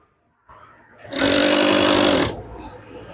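Sewing machine stitching curtain fabric while making a center tie wave in a curtain: a short burst of steady, loud motor whirring after a faint lead-in, then dropping back to quieter handling noise.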